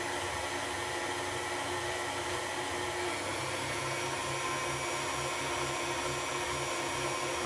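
An electric hand mixer whirs steadily in a bowl of pumpkin roll batter with pudding mixed in, a constant even motor drone that runs close up and unbroken, with no talking.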